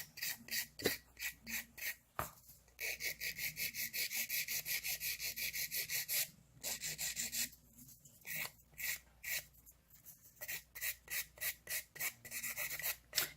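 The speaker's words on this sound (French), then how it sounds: "Sur un ongle qui a été limé avec une lime de 180." A 180-grit nail file rasps across a fingernail in quick, steady back-and-forth strokes, close and fairly loud, with a few short pauses between bursts as the nail is smoothed before a Brisa Gloss gel finish.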